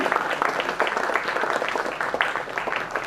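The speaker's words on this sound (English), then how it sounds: "Can we have a huge round of applause for him?" Audience at a film festival retrospective session gives the speaker a round of applause: a thick, continuous wash of many hands clapping, steady and moderately loud from start to finish.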